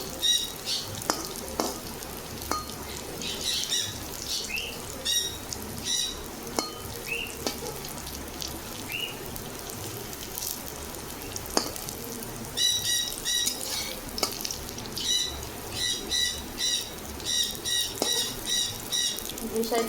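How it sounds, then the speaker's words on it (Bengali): Lentil dhoka, a cake made from red lentils, frying lightly in a pan, a moderate sizzle with occasional stirring and bird chirps outside in the background. "খুব বেশি কিন্তু কড়া করে ভাজবো না"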